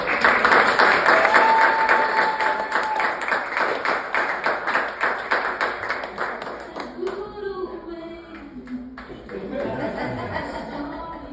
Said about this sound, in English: How about another round of applause for Ryan?